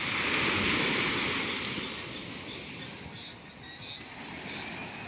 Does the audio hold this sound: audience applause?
no